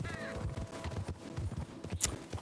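A horse's hooves clip-clop in Red Dead Redemption 2, a quick, steady gallop rhythm under faint game ambience, with a short whinny-like sound near the end.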